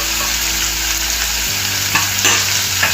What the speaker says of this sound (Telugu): ఆయిల్ వేడైంది కదా, ఈ బీరకాయ పప్పుని ఇందులో వేసుకోవాలి. అలాగే పచ్చిమిర్చి ముక్కలు కూడా వేసుకోవాలి.